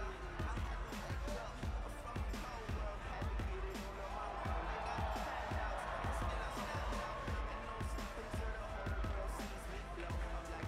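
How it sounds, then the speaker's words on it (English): A crowd at a CWA wrestling pay-per-view event roars and cheers in a steady, continuous wash with thumping beats. A commentator's voice runs over the noise. "it sounds to me like the crowd is more than ready for this one"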